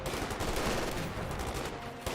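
Battle noise from Company of Heroes 2, with continuous gunfire rumbling and crackling at a steady loudness, dense and somewhat distant with no distinct single shots standing out.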